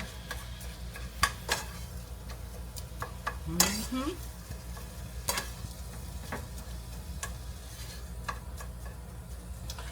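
Food sizzles steadily in a frying pan, a soft crackling hiss with scattered sharp ticks and pops, plus an occasional scrape of a utensil.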